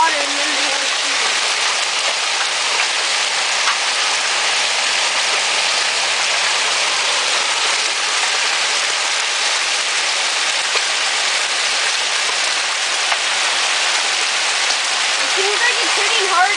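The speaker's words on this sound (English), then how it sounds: "look at the hail come off his roof over there. First it's like water, and then the hail is shooting." Hail pouring off a nearby house roof during a summer hail storm: a loud, dense, steady hiss and clatter of falling ice and water that continues unbroken, with people talking faintly underneath.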